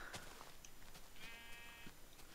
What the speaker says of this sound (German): Ey, du Schaf, warum frisst du hier das Gras weg?